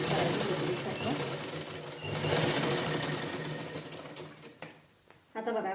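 An electric sewing machine stitches the seam of a cushion cover made from blouse-piece fabric, whirring steadily and close before slowing and pausing near the end.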